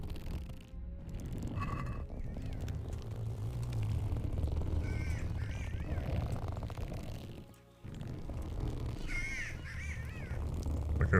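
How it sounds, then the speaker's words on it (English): Crows cawing in the Kingdom Come: Deliverance video game, repeated harsh caws over a busy in-game soundscape, fairly loud throughout with a brief dip near the end. "I hear the bird."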